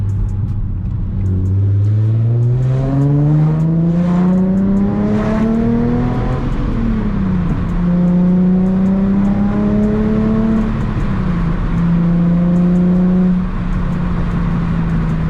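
A Nissan 350Z engine roars under hard acceleration through a single-exit exhaust, the note climbing in pitch through gear changes, loud and close, with no one talking.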